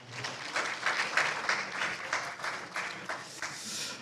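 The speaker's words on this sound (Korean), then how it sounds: "박수 부탁드리겠습니다" An audience at a Korean science journalists' conference session claps in sustained applause, a dense even patter of many hands lasting throughout, fairly close and without speech.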